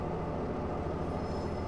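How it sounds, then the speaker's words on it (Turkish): A steam locomotive in Train Mechanic Simulator 2017, heard as a steady, dense rumble with chugging low-end texture, continuous and fairly close, with no talk. "Ha, buharlı lokomotifler."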